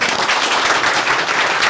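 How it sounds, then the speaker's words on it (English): Audience applause at a whisky forum session, a dense, steady wash of many hands clapping, fairly loud and close, with no speech over it. "Round of applause"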